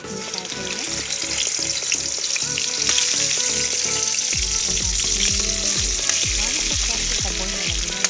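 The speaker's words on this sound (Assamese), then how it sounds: "আৰু এতিয়া মাছখিনি ফ্ৰাই কৰি লওঁ।" Fish frying in hot oil in a wok, a steady loud sizzle running the whole time with clattering stirring and tossing strokes that become heavier and more frequent in the second half.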